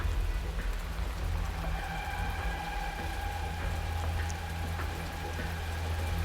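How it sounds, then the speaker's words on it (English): Rain falls steadily in a moody Arknights scene, a constant soft patter over a low hum and faint tonal drones, quiet and unbroken. "drowned by the sound of the falling rain"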